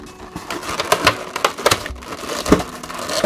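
Foil of a Pokémon Sword & Shield Chilling Reign booster pack being torn and crinkled open up close, with sharp crackling bursts in an uneven rhythm and no talking.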